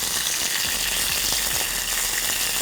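Curry leaves hit hot oil in a pan where black mustard seeds are already cooking, giving a loud, steady sizzle with dense crackling and popping throughout.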